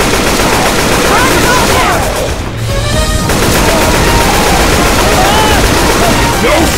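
Dense, continuous gunfire in the zombie shooter Left 4 Dead 2, loud and close, with rapid automatic bursts layered over game noise and a brief lull midway.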